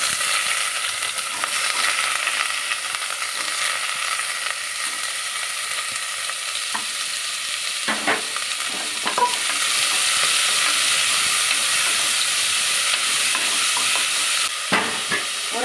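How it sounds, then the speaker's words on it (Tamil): Sliced onion and green chili fry in hot oil in a pan, a steady loud sizzle and hiss running throughout with occasional scraping stirs, no voices. "வெங்காயம் போட்டுக்கிறேன்."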